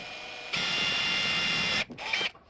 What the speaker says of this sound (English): now we're drilling the second hole